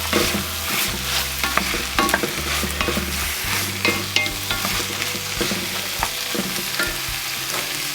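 Carrots and mushrooms, tipped into a pan with tomato paste and browned steak, sizzle loudly and steadily while a utensil stirs and scrapes with frequent clicks; no voices.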